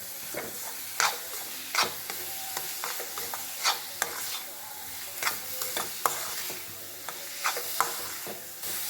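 A spoon stirs and scrapes a thick lentil and jaggery filling for paruppu poli around a pan, making regular sharp scraping strokes about every half second over a faint sizzle, close up with no voices.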